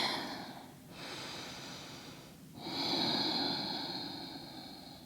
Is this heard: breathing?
yes